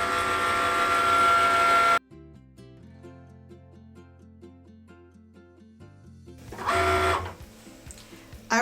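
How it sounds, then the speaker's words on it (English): Cricut Explore Air cutting machine working through faux leather, a steady mechanical whir followed by a quieter stepping hum of the moving carriage, then another louder burst, close and without talk. "press the C button to begin the cut"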